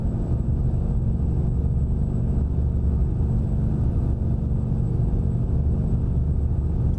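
A truck engine in American Truck Simulator gives a steady, loud, low droning rumble that holds constant throughout with no speech.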